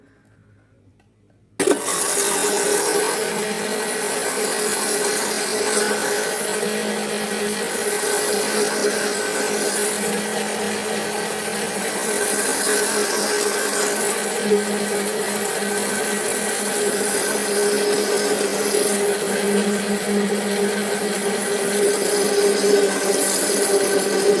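A Moulinex electric mixer mixing flourless cake batter whirs steadily and continuously after a brief quiet start, a loud close motor drone that holds for the whole stretch without pause.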